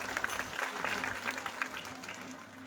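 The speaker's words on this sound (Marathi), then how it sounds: "जोरदार टाळी वाजवा" An audience at a Marathi devotional kirtan gathering claps steadily, dense applause throughout that thins slightly toward the end.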